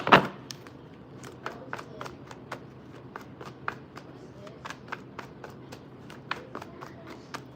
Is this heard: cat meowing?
no